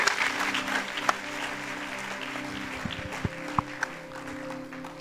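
A church congregation claps for the Lord during a service, producing a steady, moderately distant patter of many hands, with a few sharper individual claps and faint voices mixed in.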